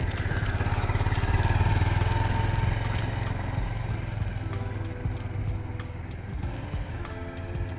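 A motorcycle ridden in first gear, its engine throbbing close and loud with rhythmic revs and falling off slightly, with faint clicks and rattles over the steady drone.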